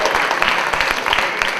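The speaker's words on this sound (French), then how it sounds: "On applaudit Ben." An audience at a poetry slam competition applauds a performer, a moderate wash of clapping from a crowd, steady and fairly close.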